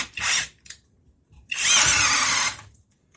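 A CHIGO cordless drill driver set to drill mode with the torque clutch engaged whirs in two close, loud bursts, a short spin followed by a longer run of about a second before it stops.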